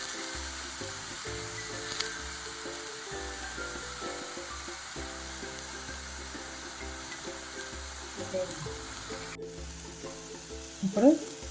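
Potatoes fry in hot oil with a sprig of curry leaves, giving a steady close sizzle with stirring scrapes throughout and a few louder crackles and spatters near the end.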